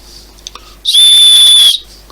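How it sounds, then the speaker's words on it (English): A single loud, shrill blast lasting under a second comes from the whistle in a MOSFiATA military folding shovel kit, sounded close and alone, with quiet before and after. "and we now have our working whistle"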